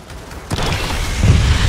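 Rocket explosion in the video game Gears of War 4: a broadband burst near 0.5 s swells into a loud, rumbling low-end blast that keeps building toward the end, fairly close and unaccompanied by talk.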